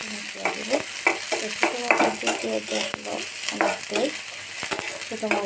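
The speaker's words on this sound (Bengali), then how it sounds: "এখন আমি তেলে পেঁয়াজটা দিয়ে দিলাম দেখুন তেলে পেঁয়াজটা দিয়ে দিলাম" Onions frying in hot oil, a close, steady sizzle broken by repeated stirring scrapes and clatters at an uneven rhythm, no talk.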